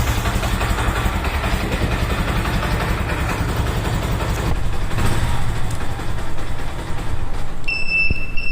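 A used car's engine idles steadily with a low, even rumble for several seconds, joined near the end by a brief high electronic beep.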